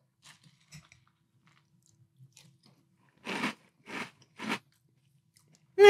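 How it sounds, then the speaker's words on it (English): Monsters' Frightful Friends cereal with marshmallows is eaten in milk: three crisp, close crunching bites in quick succession after a mostly quiet start, with no talk. "Let's try Monsters Frightful Friends cereal in milk."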